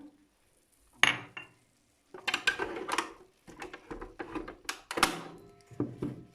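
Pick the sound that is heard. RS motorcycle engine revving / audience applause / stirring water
stirring water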